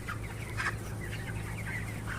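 Broiler chickens about 27 days old on a poultry farm, soft overlapping clucks and murmurs from the flock at moderate distance over a constant low hum of farm fans or machinery.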